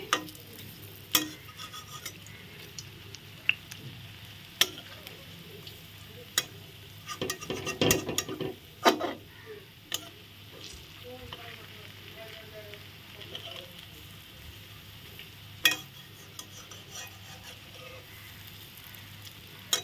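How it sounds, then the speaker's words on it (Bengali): Quiet frying of papaya kofta with a low sizzle underneath, broken by scattered clicks and scrapes of a spatula, busier stirring in the middle. "এখন আমি আস্তে আস্তে ভেজে নিচ্ছি"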